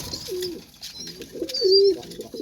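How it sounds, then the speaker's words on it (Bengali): Pigeons coo in short, low, wavering phrases, two or three calls close by over soft background noise, with faint higher chirps mixed in. "দেখেন টপ ক্লাস কোয়ালিটি কবুতর, অ্যাক্টিভিটি দেখেন"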